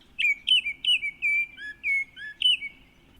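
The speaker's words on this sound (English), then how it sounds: "Maybe a Baltimore Oriole." Song of a Baltimore oriole: a run of clear, whistled bird phrases, about seven or eight short rich notes repeated in a steady, slightly irregular rhythm, close and fairly loud over faint background hum, with no voices.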